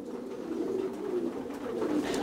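Racing pigeons gathered for a 380 km race coo in a continuous low, throaty murmur, several birds close by cooing together without pause.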